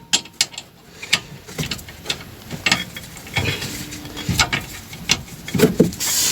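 A ratchet wrench loosens a bolt on the rear brake of a Volkswagen Golf 6, giving close, quiet, irregular clicks and mechanical clatter with short pauses between turns.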